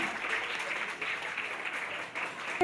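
Faint, brief applause from an audience at a prize-giving ceremony, a soft patter of clapping that rises and falls over a couple of seconds.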